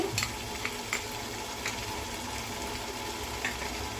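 Ginger paste and tomatoes frying in a pan for mutton biryani, a soft steady sizzle with occasional stirring scrapes, close and fairly quiet, no voices.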